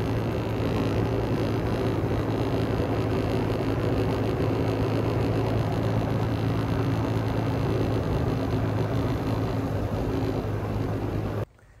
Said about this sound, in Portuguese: Esse nenenzinho, um trator de 1964, está na família.